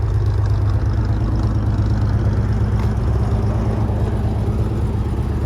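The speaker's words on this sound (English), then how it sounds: "this is the last video of it running with this V6 engine in it" A 1989 Camaro with its V6 engine running steadily, a loud, close, continuous low rumble at a constant idle with no revving and no voices.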